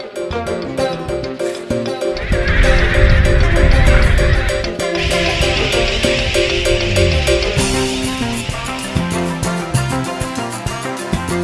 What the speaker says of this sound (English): Red-footed boobies, brown noddies, some little shorebirds that we saw